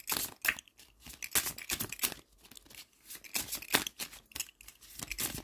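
Tarot cards being cut and shuffled by hand, giving a run of crisp papery riffles, slaps and rustles in quick bursts, close and fairly quiet, with no talking.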